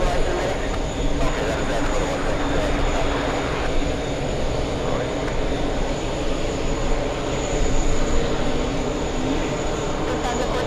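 An American Airlines jet, flight 4734, on its takeoff roll at JFK airport, giving a steady, broadband engine roar that holds at a constant loud level throughout.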